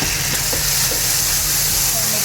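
Chicken stir fry with chili sauce and chili flakes sizzling and frying in a hot pan, a steady loud hiss with faint stirring clicks and no talking.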